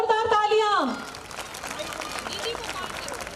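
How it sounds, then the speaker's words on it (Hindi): Applause from an audience at a school golden jubilee celebration, a broad steady clatter of many hands that takes over after a short musical flourish and continues evenly to the end. "सर जी के लिए एक बार जोरदार तालियां"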